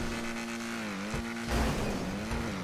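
A Komoda car accelerates during a race in GTA V Online, its engine droning steadily, then a louder burst of revving and tire noise cutting in midway, close and continuous with no talk.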